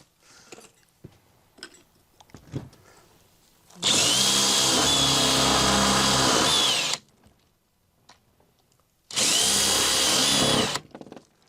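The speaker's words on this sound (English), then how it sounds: "because this is a step drill, I'm going to go on the outside and drill again from the outside" A step drill whines loudly through chipboard in two long bursts, with quieter handling knocks and shuffling between them.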